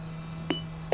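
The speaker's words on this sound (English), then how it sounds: "I dropped the empty bottle." An empty glass bottle dropped after a Gran Turismo 4 race gives two sharp clinks about half a second apart, close and fairly loud against a steady low hum.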